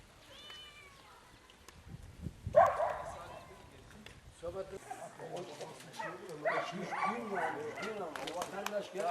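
A pack of street dogs barks and yips on a road while a passerby walks through them, bursts of close barking coming in and out amid a voice talking over the noise.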